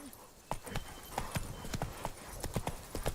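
Hooves of Geralt's horse Roach pound in a steady galloping rhythm in The Witcher 3, a fairly quiet run of repeated clip-clop beats with no one talking.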